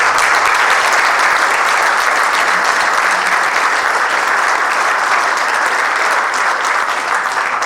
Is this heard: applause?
yes